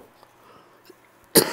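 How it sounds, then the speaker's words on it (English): One abrupt, close cough breaks out near the end over faint game background from Animal Crossing New Leaf, standing alone without talk. "Sorry about the cough, guys."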